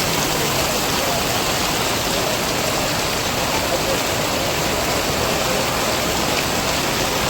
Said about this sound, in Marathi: पाऊस काल रात्रीपासून जो पाऊस चालू आहे तो चालूच आहे